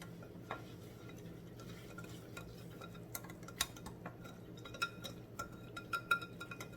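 A utensil mixing nutritional yeast into a sauce, quiet soft stirring with a few light clinks against the bowl, growing a little busier toward the end, no talking.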